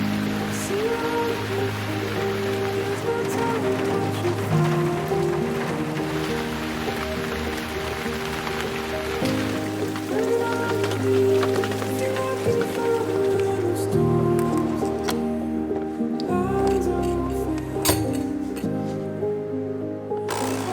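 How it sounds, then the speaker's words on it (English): Heavy tropical rain pours down near Tulum, a loud, dense, steady roar of drops on surfaces that continues for the whole stretch, with some background rumble and no talk. "I personally really like it when it rains, especially when it's this tropical kind of just pours down"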